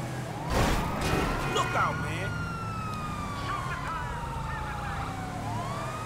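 Police sirens howl during a car chase in the video game GTA 5, several overlapping wails sweeping up and down over engine rumble, with a burst of louder noise near the start.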